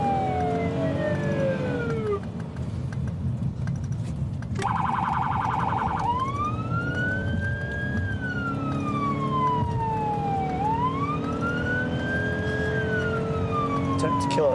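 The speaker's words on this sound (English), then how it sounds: "Kill the siren." A police car siren sweeps up and down in long wails, briefly switching to a fast yelp, over steady road and engine noise.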